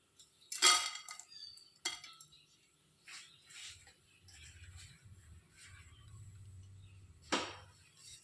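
Dried prawns dry-roast in a hot pan, with sharp metallic clinks and scrapes of stirring against the pan over a low, quiet background.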